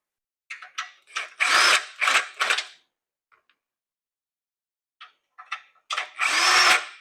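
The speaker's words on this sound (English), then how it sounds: "Allen wrench on a impact just to make it a little quicker." An impact driver fitted with an Allen bit backs Allen bolts out of the side of a 1988 Honda CRX. It gives several loud close whirring bursts, then a pause, then a few more short bursts.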